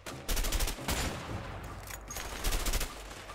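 Gunfire in the video game A Way Out, a headshot among rapid bursts of loud shots in two clusters, with a brief lull between them over a steady game background.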